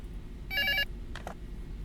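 A telephone rings in the video game Prophecy Demo: one short electronic trill burst, bright and clear over a low ambient hum, followed by a brief fainter click-like sound.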